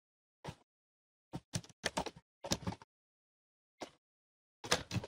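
Keys clack on a computer keyboard in short, quiet clusters separated by pauses, with dummy text being typed close by in an otherwise silent room.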